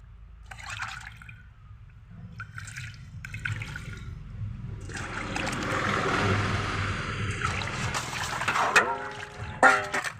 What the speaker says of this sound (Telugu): మళ్ళీ వాటర్ని పోసుకోవాలి.